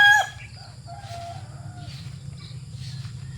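Late-born gamefowl stags crowing close by, one sharp crow at the start followed by softer, overlapping crows and clucks from several birds against a steady low background hum.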